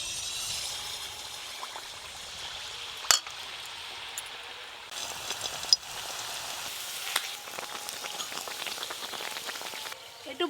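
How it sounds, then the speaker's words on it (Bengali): Filled pitha cakes made from ladled batter fry in hot oil, a steady close sizzle and crackle like rain on a surface, with a few sharp clinks of a utensil against the pan. "এইভাবেই সব পিঠেগুলো প্রথমে ভেজে নেব।"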